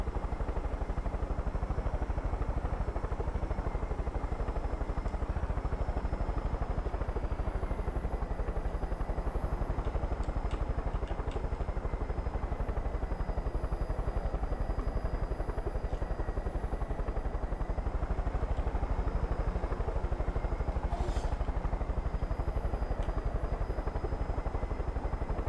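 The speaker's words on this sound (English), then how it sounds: "I don't think I want to exit the helicopter while I'm in midair." A helicopter flies in the Far Cry 5 video game with a loud, continuous rotor and engine drone that stays steady throughout and is heard alone.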